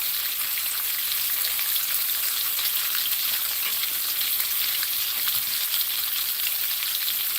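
Eggs frying in a cheap pan with no oil, a steady bright crackling sizzle that stays even and close throughout, with no talking.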